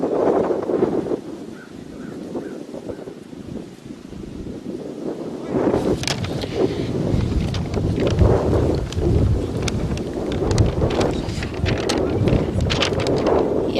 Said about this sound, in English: it's a very chilly and windy day here